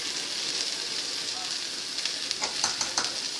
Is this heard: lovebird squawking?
no